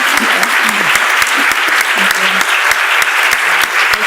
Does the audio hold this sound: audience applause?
yes